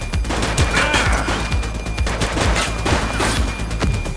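Sustained gunfire in the police action game The Precinct, with loud rapid shots rattling in continuous bursts and overlapping volleys, close and intense for several seconds.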